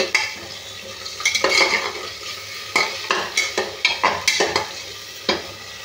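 Spice masala with ground tomato frying in a pan, stirred briskly so repeated scraping strokes of a spatula sound over a continuous sizzle, loud and close with an uneven rhythm.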